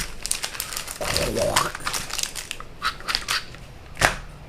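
Pokémon Prismatic Evolution booster pack foil wrapper being torn and crinkled open, close crackly rustling with several sharp crinkle bursts over about four seconds.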